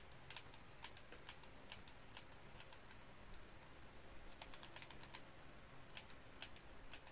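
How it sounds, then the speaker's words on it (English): Rapid plastic clicking and tapping of Xbox 360 controller buttons during Minecraft play, close up and fairly quiet, in irregular bursts over a soft steady background hum. "Don't know if you can hear my controller clicking."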